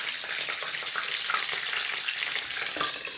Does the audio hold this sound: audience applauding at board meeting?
no